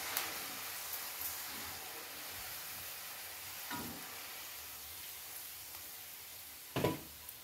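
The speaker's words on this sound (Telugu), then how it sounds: "చూడండి ఫ్రై అయిపోయాయి" Ingredients for chikkudukaya pachadi frying in a pan, a soft continuous sizzle and hiss with a few brief stirring clatters, faint and close, no talking.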